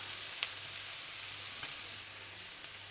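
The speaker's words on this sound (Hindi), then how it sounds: "प्याज को हमने 1 से 2 मिनट तक पका लिया है" Chopped onions fry quietly in a pan for a chicken sandwich filling, a soft, even sizzle with a couple of faint clicks from stirring and no talking.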